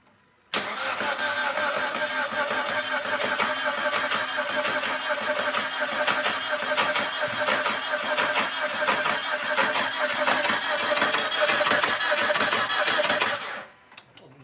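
A Proton Saga engine fresh from a top overhaul cranks and catches, then runs steadily at a rough idle for over ten seconds before cutting off, loud and close with no talking.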